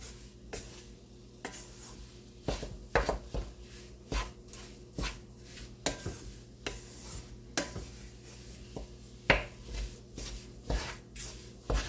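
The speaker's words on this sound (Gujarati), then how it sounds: "અને હલાવતા જ રહેવાનું છે, નીચે ચોંટવો ના જોઈએ" Wheat flour roasting in a pan on low heat for sukhdi, stirred with repeated scraping and knocking strokes of a spoon against the pan, close and irregular, with no talk.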